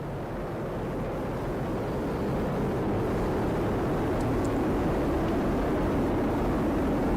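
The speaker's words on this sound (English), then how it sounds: "All 27 Merlin engines look great." Falcon Heavy rocket launching NASA's Europa Clipper, its 27 Merlin engines producing a steady, broad, rumbling roar that stays loud and unbroken throughout.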